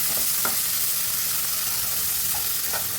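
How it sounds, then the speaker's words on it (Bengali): Chopped onions fry in hot oil with bay leaf, cinnamon, and green and black cardamom for a country chicken and bottle gourd curry, giving a steady close sizzle broken by soft scraping stirs. "পেঁয়াজটাকে নেড়ে ছেড়ে হালকা গোল্ডেন ব্রাউন কালার করে ভেজে নিয়েছি"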